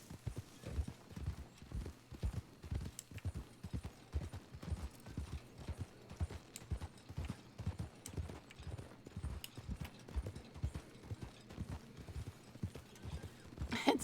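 Rhythmic clip-clop of an injured horse's hooves in a video game at a steady walking pace, fairly close and moderately loud, with no talking.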